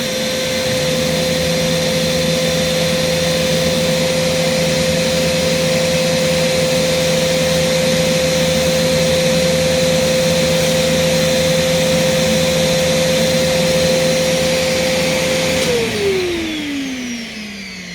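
A Kenmore Progressive vacuum cleaner with a powered hose runs loudly and steadily with a constant whine and a brush roll hum, then the motor winds down at the end.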